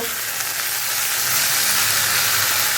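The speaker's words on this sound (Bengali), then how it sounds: "এবারে এটাকে ভালো করে একটু কষিয়ে নেব।" Food sautés in a karai with a loud, steady, close sizzle and hiss that runs unbroken throughout, with no voices.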